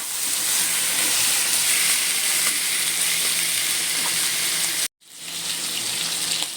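Chicken frying in a pan with ginger and onion gives a loud, continuous hissing sizzle that cuts out briefly, then resumes strongly, with no talking.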